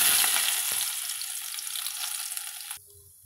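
A spoonful of washed toor dal frying in hot oil for a South Indian okra kuzhambu, a loud steady sizzle that fades slightly before cutting off abruptly near the end.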